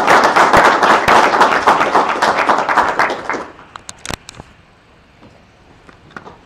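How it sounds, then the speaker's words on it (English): A room of attendees at a Python meetup gives a burst of applause. Loud, dense clapping fades after about three seconds into a few scattered individual claps and taps. "Applause for Isla, I think."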